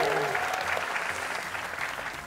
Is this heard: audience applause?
yes